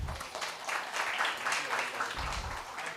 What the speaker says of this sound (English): So yeah, huge round of applause.